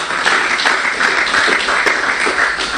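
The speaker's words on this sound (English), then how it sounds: "A round of applause for them." Steady applause from an audience at the launch of the book "Stories of Roseau Valley", a close, even wash of clapping with no voices on top.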